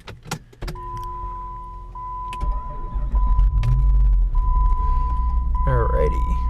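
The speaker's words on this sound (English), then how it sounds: "let's go ahead and start the car." A Chrysler car's engine cranks and starts, then settles into a steady idle with a door chime tone running through it; clicks and a whirring electric motor come first, and a person speaks nearby.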